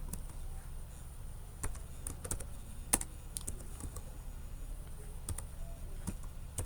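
Keys clack on a computer keyboard in scattered, irregular bursts of quick clicks, fairly close and moderately quiet, with no speech.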